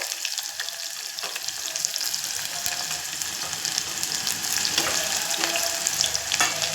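Chopped onions frying in oil inside a pressure cooker, a steady bright sizzle and crackle with occasional stirring scrapes, close and fairly loud throughout with no talking.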